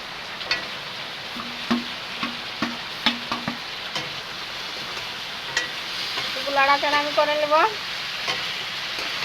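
Desi chicken curry masala with whole garlic cloves fries in oil, a low continuous sizzle punctuated by irregular spatula scrapes and taps against the pot, with a brief voice near the end.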